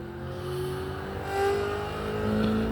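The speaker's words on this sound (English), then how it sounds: "It's got a hard drive motor running it." A small hard drive motor drives a prototype spinning device, giving a steady close-up motorized whir with slowly shifting tones and slight rises in level, with no talking.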